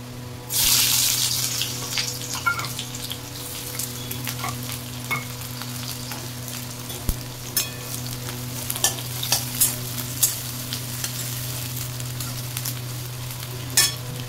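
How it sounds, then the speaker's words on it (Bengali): Nigella seeds, poppy seed paste and onion frying in mustard oil, a loud burst of crackling at the start settling into a constant sizzle with scattered pops and clatters, with running water from a tap in the background. "এই যে তেলের মধ্যে, সর্ষের তেলের মধ্যে কালো জিরে ফোড়ন দিয়ে দিচ্ছি"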